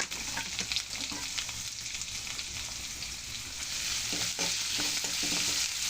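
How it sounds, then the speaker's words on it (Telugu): Three medium-sized chopped onions frying in a pan for an eggplant curry: steady close sizzling throughout, with stirring scrapes and clatter growing louder toward the end. "ఇప్పుడు ఇందులో 3 మీడియం సైజు ఉల్లిపాయలు కట్ చేసి వేసుకుంటాను."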